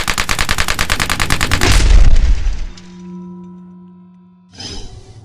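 A 12 gauge shotgun fires a rapid string of loud, close blasts, ending with a heavy boom and a lingering ringing decay, then a brief final burst of noise.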